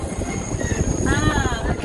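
Universal Studios Hollywood studio tour tram rolling along with a steady low rumble and rattle, a tour guide's voice over the ride noise.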